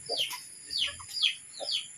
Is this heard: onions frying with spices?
no